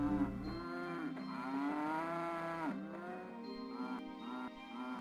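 Cattle in the city-building game Settlement Survival give a long, drawn-out moo that rises and falls, followed by shorter lowing calls, fairly loud and clear with no talk over them.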